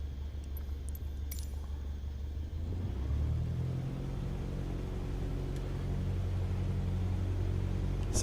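A small aircraft engine taxiing on taxiway Yankee at Cannes-Mandelieu gives a steady close rumble that rises in pitch partway through as power increases, with faint clicks at the start.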